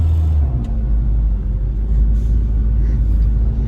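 Interior of a 1999 Saturn SL1 on the move, a steady low engine and road rumble with a slight rise as it pulls, close and constant, no voices.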